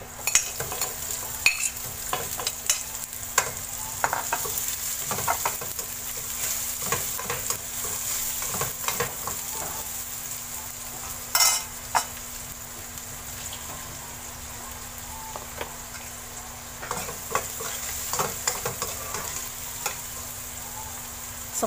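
Onions for beef kaldereta sizzle steadily in hot oil, with repeated scraping stirs and occasional louder clatters from a spatula against the pan, close and continuous.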